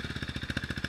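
A KTM RC390 sport motorcycle engine revs close by with a fast, steady throbbing pulse, loud and unbroken throughout.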